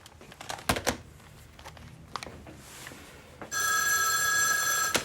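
A telephone bell rings loudly and steadily for about a second and a half at the end, following a stretch of soft rustling and light clicks in a quiet room.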